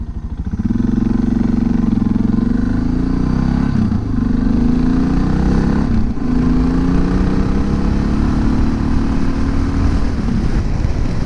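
A modified motorcycle with a newly replaced clutch runs close by with a loud, continuous engine note, its pitch rising and falling through several revs without any talking.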